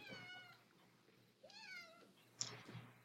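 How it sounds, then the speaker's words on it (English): A clickable object in the Kitely virtual world plays random cat noises: a few faint meows, one drawn out and rising, then a short chirp-like mew, with no voices. "you can click on these and it plays random cat noises"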